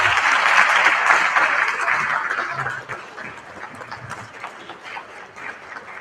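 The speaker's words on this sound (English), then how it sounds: "Ladies and gentlemen, a round of applause for our Deputy Minister, Mr. Zihle Zikalala, as he enters the stage." A seated audience at a public works and infrastructure summit applauds as a deputy minister enters the stage. The clapping is loud and dense for about three seconds, then thins into a quieter, scattered patter.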